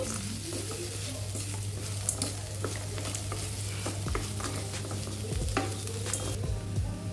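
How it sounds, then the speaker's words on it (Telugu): Coconut rice with chopped coriander and salt is stirred in a pan, giving a continuous gentle sizzle and scattered scraping and tapping of the spoon over a steady low hum. "ఇప్పుడు ఒకసారి బాగా మిక్స్ చేసుకుందామండి"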